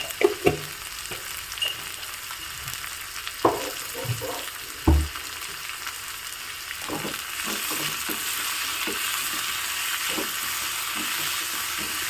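Chili and chili powder sautéing in a pan for a village-style breakfast: a steady, close frying sizzle that grows fuller halfway through, with occasional clinks and knocks of stirring.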